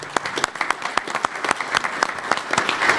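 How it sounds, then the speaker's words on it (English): Audience applause at a baseball league merger announcement, a steady patter of many hands clapping at moderate volume with distinct sharp claps throughout. "Please join me for a round of applause for them."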